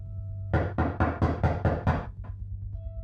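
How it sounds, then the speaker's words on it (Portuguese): Knocking on a door: a rapid run of seven loud, evenly spaced knocks followed by one softer final rap, alone over a steady low hum, with no voices. "Batidas na sua porta de algo querendo entrar, mesmo você estando completamente sozinho em casa."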